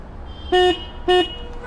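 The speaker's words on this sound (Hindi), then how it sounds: "इसका हॉर्न का साउंड चेक करते एक बार।" Two short beeps from the horn of a new Hero Xpulse 200 Pro 4V motorcycle, close and loud, evenly spaced with a brief pause between them over quiet background noise.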